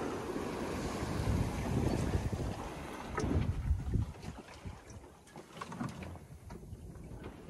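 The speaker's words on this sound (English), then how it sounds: "This boat sails pretty nice in light wind." Sailboat moving through light wind on the open Atlantic, with a steady wash of water along the hull, soft wave splashes and low wind rumble on the microphone. No voices.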